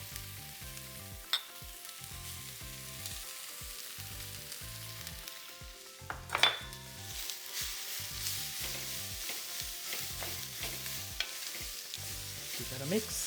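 Dates are dropped into a sizzling pan and stirred, giving a continuous close frying hiss. Repeated spatula scrapes and knocks fall in a loose rhythm throughout, with one louder clatter near the middle.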